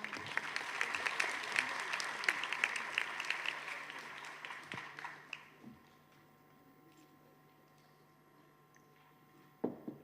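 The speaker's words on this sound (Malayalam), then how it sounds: "ഒരു നല്ല കൈയടി ആകാം." Audience applause at a national conference and foundation day celebration, dense and steady for about five seconds, then fading into near-silence with a brief sharp knock near the end.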